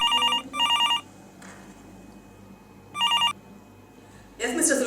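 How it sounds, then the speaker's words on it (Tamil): A telephone rings in a short film with a bright, trilling bell, two quick rings back to back, then a pause and a third ring. Quieter background sound fills the gaps and a louder burst closes the clip. "இன்னும் கொஞ்ச நேரத்தில் உங்களுக்கு ஃபோன் வரும் பாருங்க."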